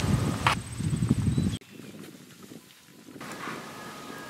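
Hooves of a 2010 palomino American Quarter Horse ranch gelding trotting outdoors, a steady clip-clop rhythm with wind buffeting the microphone and a brief break in the middle.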